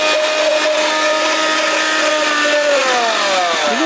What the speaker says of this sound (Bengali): যেহেতু এটা 750 ওয়াটের ব্লেন্ডার।